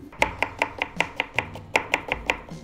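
Potatoes chopped with a knife on a board, about a dozen crisp evenly spaced chops heard close up with no talk.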